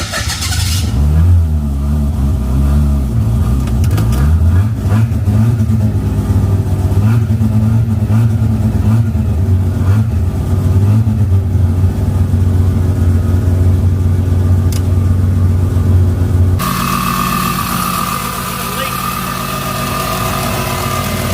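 A 13B bridge-port rotary engine from a Mazda 626 build fires up and runs loud and close, a harsh choppy idle with repeated revs rising and falling before cutting off, leaving background noise.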